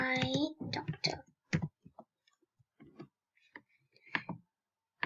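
Quiet keyboard typing as a chat message is entered, a scattering of short, sharp key clicks with gaps between them, following a brief burst of speech at the start.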